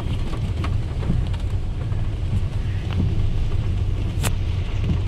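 Steady rain falls during a rainy day in Guwahati, a constant hiss with faint scattered taps and no voices.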